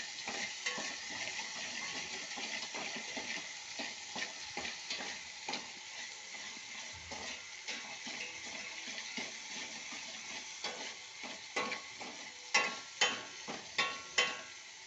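A spoon stirs curd rasam (majjiga pulusu) as it simmers in a pan. Continuous sizzling runs throughout under rhythmic scraping strokes, which grow louder and sharper toward the end.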